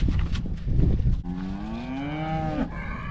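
A cow on a farm moos once, a long, loud, close bellow that rises and falls, following a few seconds of rustling and low farmyard noise, with no talking.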